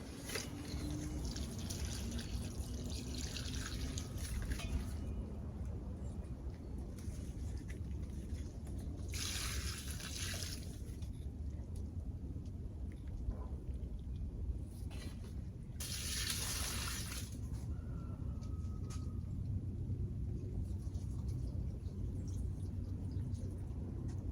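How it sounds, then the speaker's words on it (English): Water from a hose or tap splashes onto a potted plant in a winter greenhouse, a steady trickle with two louder bursts of spray over low background rumble. "So I'm gonna water this plant real quick and then shut the shop down."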